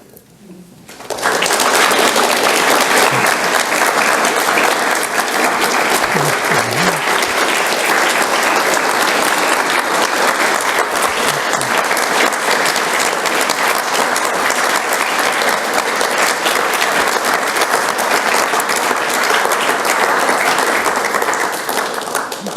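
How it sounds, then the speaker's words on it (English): Sustained, loud audience applause fills a hall after a poetry reading by Robert Kelly at Bard Hall, rising suddenly and holding steady as a dense wash of many hands clapping. "Thank you very much for your applause"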